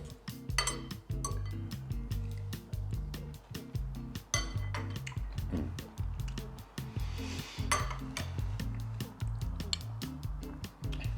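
Cutlery scraping and clinking on a plate while tomatoes and burrata are cut, with repeated close clinks and soft squishy sounds over steady background music.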